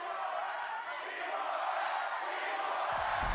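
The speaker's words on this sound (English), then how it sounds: "Exultations and cheers" An esports crowd roars at a Valorant match between Paper Rex and Loud, a dense, steady wall of cheering and shouting that swells slightly toward the end.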